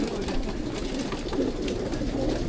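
Soft, low cooing of racing pigeons over a steady murmur of background noise, close by and continuous.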